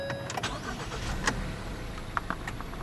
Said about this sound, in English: You can barely hear that it's a 4-cylinder